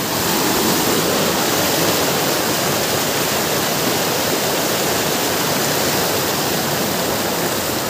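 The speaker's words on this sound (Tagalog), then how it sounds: "Sobrang lakas ng tubig." Strong river current rushing loudly and steadily, a dense broadband roar of fast-flowing water close by with no break for the full length.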